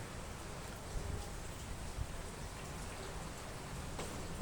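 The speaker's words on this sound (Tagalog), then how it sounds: "Nababasa po ng tubig ulan." Steady, dense rain patters all around, a constant even hiss with occasional heavier drops, and no voices.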